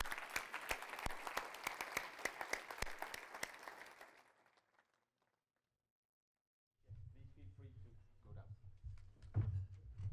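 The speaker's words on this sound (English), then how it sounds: "a big round of applause to the panel" A room applauds a conference panel on match-fixing in sport, with dense, loud clapping for about four seconds. It tapers into a quiet pause, and then a voice begins speaking.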